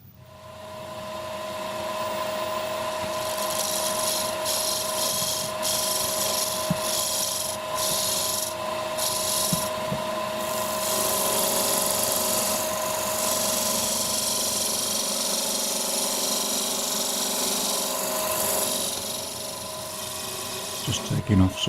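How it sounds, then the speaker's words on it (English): A wood lathe spins a goblet blank while a parting tool marks it off, a steady close whir and hum with rough scraping and rasping of the cutting edge over the turning wood, continuous and fairly loud. "I'm just marking that off with the parting tool."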